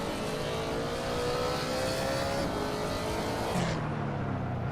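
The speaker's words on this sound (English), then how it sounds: "Where a noisy V8 comes into shot." A loud V8 car engine in the Hot Wheels: Universe Zero racing video game revs steadily throughout, rising in pitch, with a dense roar of other race cars and a gear change near the end.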